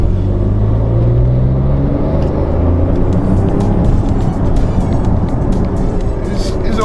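A Porsche 911 Carrera 4S accelerates gently, its engine a steady loud rumble heard from inside the cabin with road noise underneath, the pitch rising slightly over time.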